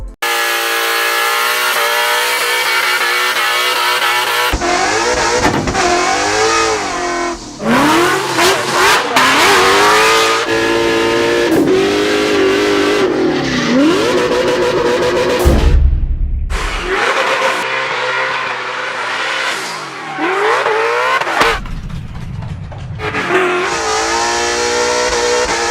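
A Ford Mustang RTR in Need for Speed The Run revs loudly and climbs through gears, engine snarls rising and dropping in sweeps with brief gaps, close and dominant throughout.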